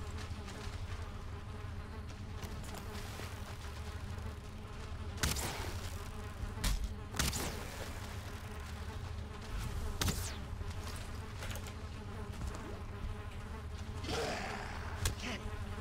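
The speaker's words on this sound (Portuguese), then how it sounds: "esse barulho de mosca é pra pilha deles" Flies buzz steadily around a pile inside a swamp crypt in the Valheim survival game, a dense, continuous insect drone lasting throughout with occasional sharper game thumps and clatters, no talk.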